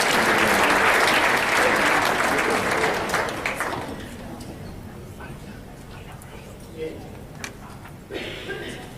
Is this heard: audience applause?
yes